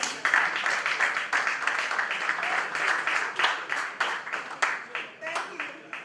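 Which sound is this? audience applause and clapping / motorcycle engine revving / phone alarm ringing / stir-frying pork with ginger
audience applause and clapping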